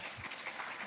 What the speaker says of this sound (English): Like, definitely go give them a clap.